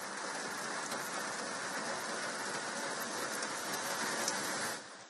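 Rain pours steadily over Bengaluru, a dense, even hiss that holds unbroken and fairly loud for the whole stretch before easing slightly at the very end, with no voices.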